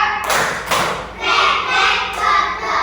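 A classroom of students in Salatiga, Indonesia claps together in a counted clap chant: a few sharp group claps ring out in sequence, loud and close, with a murmur of voices underneath.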